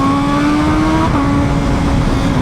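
A stage 3 BMW M1000RR superbike with full exhaust, stacks, tune and breather screams at high speed, a loud sustained engine whine with steady pitch and a brief shift dip midway, heavy wind rush underneath.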